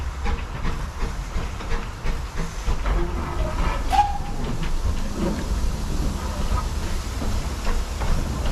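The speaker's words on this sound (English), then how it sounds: "The locomotive is backed up to get ready to go into the passing loop." Steam locomotive at a heritage railway hissing steadily while backing up toward a passing loop, a continuous broadband hiss with faint clanks and a brief whistle-like tone partway through.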